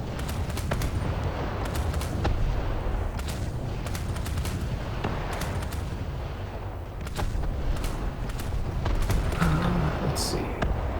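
Gunfire and cannon booms from the naval battle game War Thunder roll on as a constant rumbling barrage. Sharp cracks and distant blasts pile over one another throughout.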